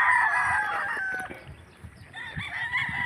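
Gamecock roosters for sale at a fighting-cock market crow in overlapping calls, one loud and close at the start and others answering at middle distance, with clucking between.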